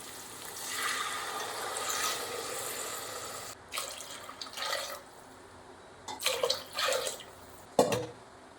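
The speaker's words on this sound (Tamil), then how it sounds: "இப்போ நம்ம தேங்காய் பால் சேர்த்துக்கலாம். 4 டம்ளர்." Coconut milk pours and splashes into a pot in several short bursts, quiet and close, with brief pauses between pours.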